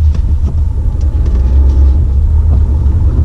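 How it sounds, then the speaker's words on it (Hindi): A diesel vehicle strains in second gear up a steep climb on a narrow, landslide-hit road toward Kathmandu, its engine a steady, close, heavy low rumble with no one talking. "सेकंड गियर में अगर आप डीजल की गाड़ी चढ़ाने की कोशिश करोगे तो बहुत मुश्किल से चढ़ रही है।"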